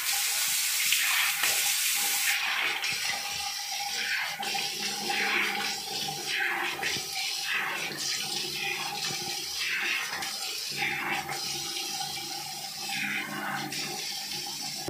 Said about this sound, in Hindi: अभी ये फेस वॉश लगा है और अभी मैं इसको धोऊंगा